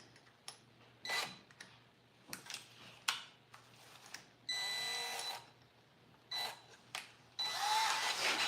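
Close by, a handheld power drill bores holes during a tractor steering job, running in short, separate whirring bursts of a second or so, split by quiet gaps.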